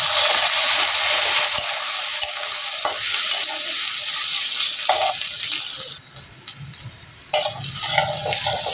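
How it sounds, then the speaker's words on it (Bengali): Cut potatoes frying in a pan of oil previously used for frying prawns, a steady close sizzle with occasional stirring scrapes and clatter. "আমি এবারে আলুগুলো ভেজে নেব চিংড়ি মাছ ভাজা তেলের ভিতর দিয়ে।"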